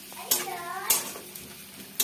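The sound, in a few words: onions frying and being stirred in pan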